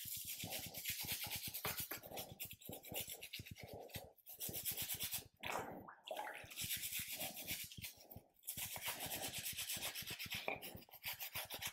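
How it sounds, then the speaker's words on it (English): A resin model kit part is scrubbed in detergent water, with rapid, repeated rasping brush strokes in steady bursts, a few short pauses between rounds, close and fairly quiet. "put the part in and then give it a good old scrub"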